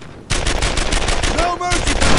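Rapid gunfire in the World War II shooter Brothers in Arms: Earned in Blood rattles on almost without pause, loud and close, as a dense string of shots with a brief ringing tone partway through.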